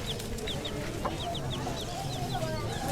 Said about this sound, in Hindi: असली मुर्गी है ये